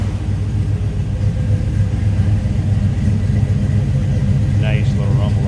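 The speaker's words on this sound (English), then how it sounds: "Nice little rumble out of that 350 V8." A 1973 Chevrolet Camaro Z28 with a 350 V8 idles with a steady, deep, throaty rumble heard close from behind the car, while someone talks over it near the end.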